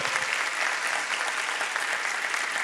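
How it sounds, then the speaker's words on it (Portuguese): A church congregation at a youth worship service applauds steadily, a dense, even wash of many hands clapping throughout with no voices standing out. "Vamos aplaudir o Senhor"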